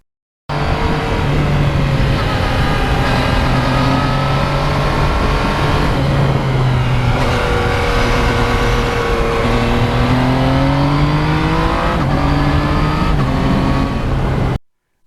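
A Yamaha MT-09 motorcycle rides along a road, its engine droning steadily and loudly with rising and falling pitch as the throttle changes, heard continuously from the rider's position.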